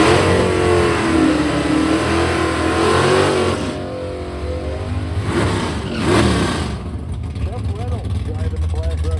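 The Black Russian, a vintage drag car at an old drag strip, revs hard with a loud, rising engine roar, eases off, and then climbs again through the rest of the clip.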